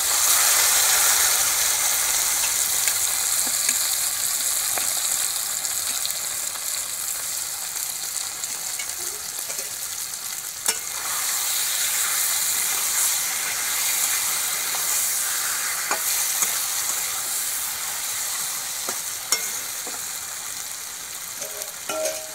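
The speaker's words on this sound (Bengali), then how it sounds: "তো কড়াই তেল দিয়েছি, তেল গরম হয়ে গেছে। এবার কড়াতে মাছগুলো দিয়ে দেব।" Spiced fish frying in hot oil in a kadai, a dense, steady loud sizzle with occasional pops and clinks, close and continuous without speech.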